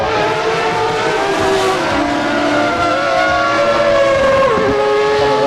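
Lamborghini and Williams race cars in Assetto Corsa roar past in a steady, loud stream of high, whining engines, with pitch sliding up and down as they pass and no talking.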